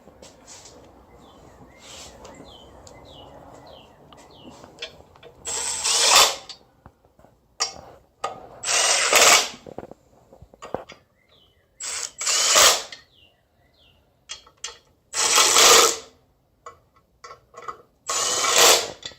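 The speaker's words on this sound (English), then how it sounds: "I'm putting this on with the impact gun," An impact gun fastening a clutch part during a V6 swap into a Miata fires in several short loud rattling bursts of a second or so, separated by pauses with quieter clicking and handling noises.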